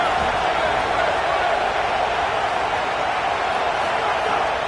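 Loud roaring crowd at an American football stadium as the defense takes the field, a dense continuous wall of noise with a broadcast commentator talking over it.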